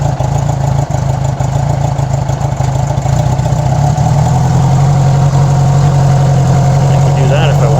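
A Honda GL1200A Gold Wing motorcycle engine idles steadily and low at first start, a constant close rumble that thickens slightly partway through, with no talk over it.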